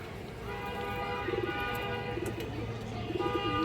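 Pigeons of several fancy breeds kept together, soft repeated cooing in short rolling phrases over a steady low background, moderately near, with someone talking nearby.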